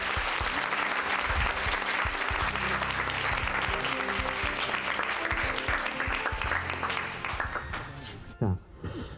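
An audience at an economics lecture hall applauds to welcome the speaker, a loud sustained crowd of clapping that carries for several seconds before thinning out and stopping.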